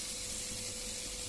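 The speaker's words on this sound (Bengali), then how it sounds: "এইভাবে একটু করে জল দিয়ে দিতে হবে, যাতে" Water is splashed into spices frying in a pan, raising a loud, continuous sizzle and steam hiss with a faint steady hum beneath, no talking.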